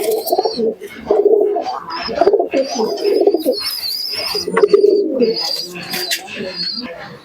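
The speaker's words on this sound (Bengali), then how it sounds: "খুবই সুন্দর কোয়ালিটির কবুতর রয়েছে।" Imported teddy pigeons coo loudly and continuously at close range, deep throaty rolling calls overlapping one another, with higher chirps mixed in.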